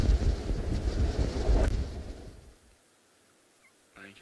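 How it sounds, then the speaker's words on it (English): Strong gusts buffet an outdoor microphone on a windy day in Kenya's Maasai Mara, a loud rumbling roar for about two seconds that drops away to near quiet, with a brief gust returning at the end. "it's a very windy day here in the Masaimara in Kenya"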